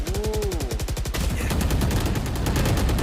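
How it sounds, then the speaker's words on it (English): Rapid automatic gunfire in Valorant during an esports grand final, a fast rattling burst of close shots that stutters at first and then runs into a dense, continuous spray. "Kind of walked into the gunfire there"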